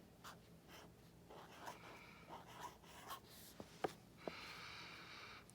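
Pen handwriting on paper during writing practice, a faint scratching of strokes in short irregular bursts with a couple of sharp taps and a longer final scrape, with soft breathing and no talk.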